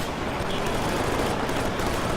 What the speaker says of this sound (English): Oh, I love this machine gun!